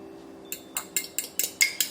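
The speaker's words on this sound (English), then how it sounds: "now we want to give our eggs a little whisk" Eggs are whisked briskly in a bowl, roughly seven quick metallic clinks and taps in a steady rhythm, close and distinct after a brief quiet start.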